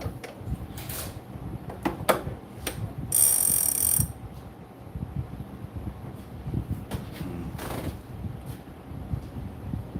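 A fishing reel winding 80-pound braided line onto its spool, giving intermittent clicking and ratcheting mechanical bursts with a brief louder whirring stretch, close and without speech.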